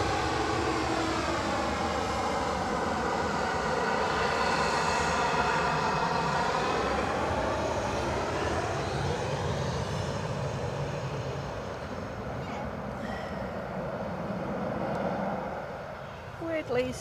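A Ryanair airliner rolls past at Edinburgh Airport, its jet engines giving a sustained, broad roar with a shifting whine. The sound is heard from a distance and stays steady for a long stretch before easing slightly.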